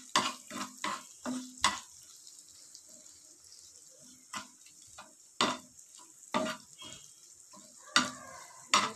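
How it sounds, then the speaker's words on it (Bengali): Grated ginger fries in a pan, a soft hiss under repeated scraping stirs and spoon knocks that come in irregular bursts, with no one speaking. "এবারে এটাকে একটু বেশ ভাজা ভাজা করে নিতে হবে"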